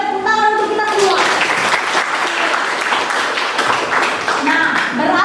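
A class of students clapping their hands together during a lesson, a dense, loud round of applause that swells after a brief pause and continues steadily to the end.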